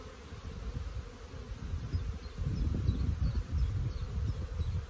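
Honeybees buzz in a dense, continuous swarm over an opened hive colony, with a low rumbling hum that swells louder midway and individual bees whining past nearby.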